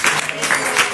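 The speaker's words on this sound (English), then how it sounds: "Let's clap for Srila Gurudev." An audience claps together during an evening glorification gathering honoring Srila Gurudev, a dense steady wash of applause filling the whole moment, fairly loud and close.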